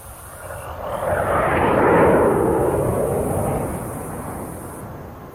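A video game jet roars overhead, swelling to a loud rushing peak and fading away over a few seconds, with a high steady insect drone in the background.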